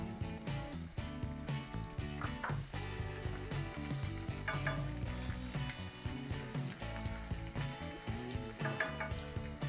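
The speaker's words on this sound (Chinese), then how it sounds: "炸干贝需要大概5分钟的时间， 直到这些干贝丝变成浅金黄色。" Dried scallop shreds and dried shrimp fry in oil for XO sauce, a continuous close sizzle with repeated rhythmic scraping and stirring clatter throughout, no voices.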